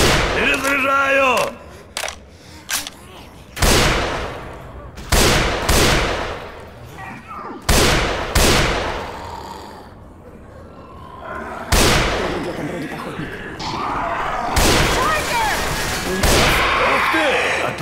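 Gunfire in the zombie shooter game Left 4 Dead 2, sharp loud single shots and short bursts spaced irregularly, separated by quieter gaps with reload clicks and clatter, with game voices in between.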